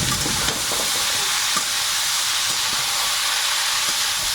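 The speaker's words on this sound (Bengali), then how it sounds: "রসুনটা হালকা ভেজে নিয়েছি এবারে চালগুলোটা দিয়ে দিলাম" Garlic and ash gourd frying in a pan with rice added, a steady loud sizzling hiss throughout with faint stirring clicks underneath.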